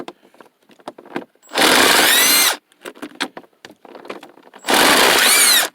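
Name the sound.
power drill driving screws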